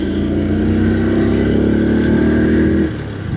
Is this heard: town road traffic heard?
yes